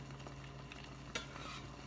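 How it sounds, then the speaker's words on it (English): Faint crackling sizzle of garlic frying in oil, steady and quiet, with a single soft tap of a utensil partway through. "Starting to do a little bit of sizzle for us here."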